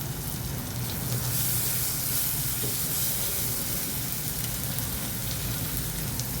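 Mutton brain with coriander fries in a pan, a dense, even sizzling hiss that carries on without break, close and fairly loud.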